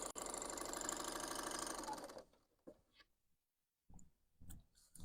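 A Bernina L890 sewing machine stitches a rolled hem with a loud, steady mechanical whir for about two seconds, then stops abruptly, leaving a few soft knocks and handling sounds.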